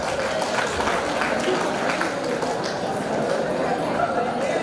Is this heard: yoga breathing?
no